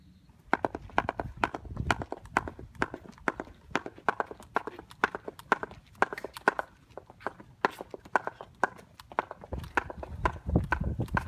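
Horse hooves clip-clop in a steady walking rhythm, sharp close knocks repeating throughout with a low rumble swelling near the end.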